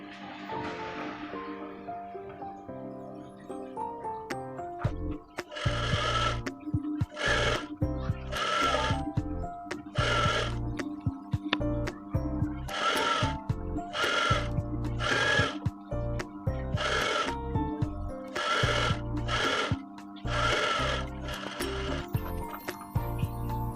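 A sewing machine stitches the bottom hem of a skirt in repeated loud bursts of rapid mechanical whirring, each run lasting about a second, separated by short pauses, with a few clicks and handling sounds in between.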